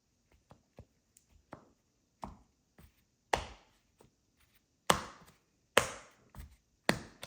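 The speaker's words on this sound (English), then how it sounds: "Got a deck of cards, which we'll give it some cuts." A brand new deck of playing cards being cut and shuffled by hand, giving a series of sharp slapping and riffling clicks that grow louder toward the end, alone in a quiet room.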